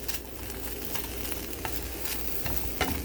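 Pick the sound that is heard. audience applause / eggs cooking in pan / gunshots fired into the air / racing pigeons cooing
eggs cooking in pan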